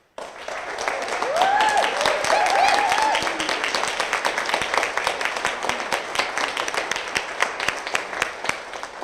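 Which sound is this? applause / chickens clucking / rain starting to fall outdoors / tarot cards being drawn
applause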